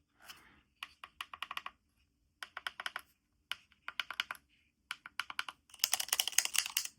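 Keys of a Teenage Engineering OP-XY synthesizer clicking in quick bursts of crisp, close taps separated by short pauses, ending in a dense flurry of rapid clicks with no talking.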